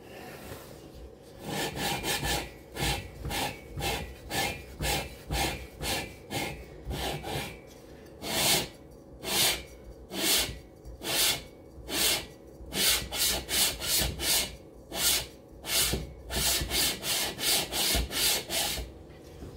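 Cylinder liners of a Cox 1600 engine are lapped onto the heads by hand, giving steady rhythmic metallic grinding strokes, close and even, repeating throughout with some faster runs later on.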